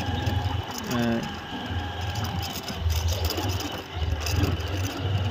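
A motorbike engine hums steadily while riding along a village road, its low drone rising and falling with brief bumps and wind, with a voice talking intermittently over it.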